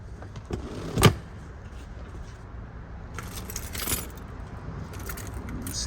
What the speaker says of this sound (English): got all these freaking car keys.